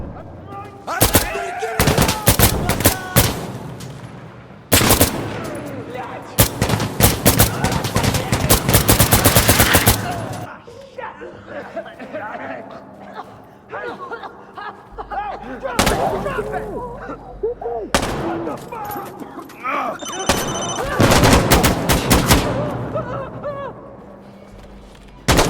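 Gunfire in the tactical shooter Insurgency Sandstorm: loud, rapid bursts of automatic rifle fire in repeated volleys with short pauses, with shouted voices between the shots.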